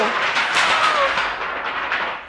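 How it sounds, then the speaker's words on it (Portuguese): A thunderclap sound effect rolls out as a loud, sustained booming crackle that fills the whole moment, with no talking over it. "Enquanto Samuel orava, houve um estrondo no céu"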